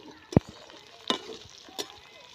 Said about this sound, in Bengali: এই যে মুলু আর আলু সুন্দর করে লাল লাল করে ভাজিয়ে নিচ্ছি